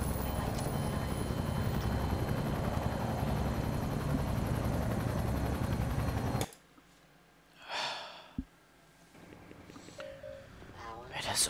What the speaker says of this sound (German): Jetzt kommt eine Heli.